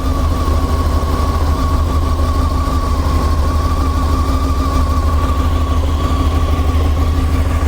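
A Honda CBR600 motorcycle idles during carburetor synchronization, a loud, steady, close engine drone with an even low rumble throughout and no revving.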